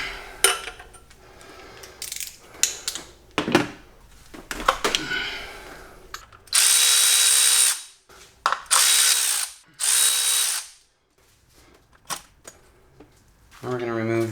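Power tool spinning out 10 mm cam cover bolts on a Mazda Miata, several loud bursts of whirring separated by clinks of metal parts, with speech heard in between.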